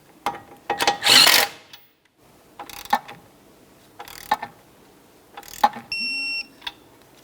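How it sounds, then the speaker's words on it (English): A ratchet wrench clicks in quick bursts while tightening the outer tie rod end nut on a 2003-2007 Honda Accord steering knuckle, with short separated runs of ratcheting and a brief mechanical whine near the end. "start on the nut, snug it up, and torque it to 32 foot-pounds"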